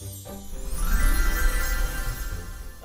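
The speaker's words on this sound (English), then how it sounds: "That's the sound of the magic story drawer." A magic story drawer opens with a soft shimmering jingle, a sparkling chime effect that swells briefly and fades over a few seconds, heard alone without talk.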